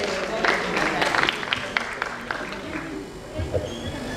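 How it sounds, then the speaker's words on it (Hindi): Applause from an audience welcoming Sanjeev sir onto the stage at the Jhoom 2021 final and awards event, a dense patter of claps mixed with crowd noise and voices, strongest early then thinning out. "एक बार जोरदार तालियां हो जाए संजीव सर के लिए।"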